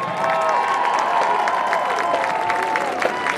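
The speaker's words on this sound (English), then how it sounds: "Please give a big round of applause for the Baker Middle School 8th Grade Band" A crowd in the stands at a high school football game's halftime applauds and cheers for a middle school 8th grade band, a steady wash of clapping with some sustained tones underneath.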